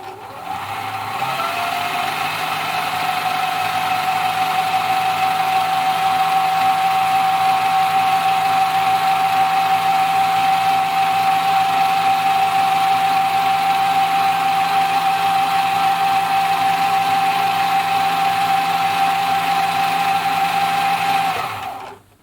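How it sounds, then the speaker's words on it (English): Husqvarna Viking Practica 4010 sewing machine running steadily in low speed mode, a continuous even motor whine holding at one level for about twenty seconds, close and alone with no talk. "I'll quickly show you the low speed mode while it's sewing."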